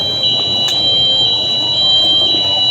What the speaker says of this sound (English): there's some alarm going off.